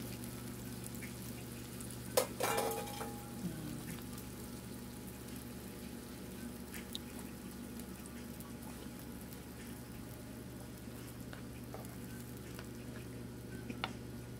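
Canned tuna drops into a pan and starts frying, a faint soft plop followed by a quiet, steady sizzle and light crackling pops that continue under a low hum.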